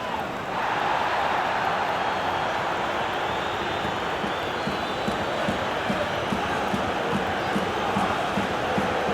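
A stadium crowd roars steadily throughout a Manchester City versus Bayer Leverkusen Champions League football video game match, a dense, continuous wash of cheering with no clear breaks.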